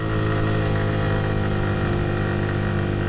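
A motorcycle engine pulls up a steep hill in second gear at Dim Pahar, a loud, continuous close-up drone that holds steady throughout.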